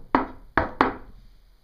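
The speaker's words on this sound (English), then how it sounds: "A knock on the phone." Three sharp knocks on a wooden surface, a quick double rap after a single first knock, loud and close with no voices.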